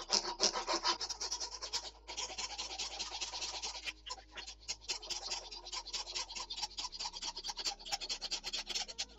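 A small mini hacksaw scores a line on a workpiece while building a guitar binding scraper, giving close, steady rasping strokes that run continuously for several seconds with short pauses.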